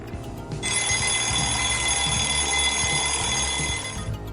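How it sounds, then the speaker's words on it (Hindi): An alarm clock rings loudly and steadily for about three and a half seconds, a bright continuous electronic bell tone that starts abruptly and cuts off cleanly, with a low background rumble underneath. "हम सुबह इसी अलार्म की आवाज़ यानी ध्वनि के द्वारा जान पाते हैं"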